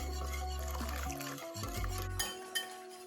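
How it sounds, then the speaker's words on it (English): A whisk clinks and rattles against a bowl as cream is drizzled into eggs for pumpkin crème brûlée, with a few sharp taps of metal on glass and soft liquid sounds. "Drizzle your cream in really slowly so that you don't cook your eggs, and continue to whisk."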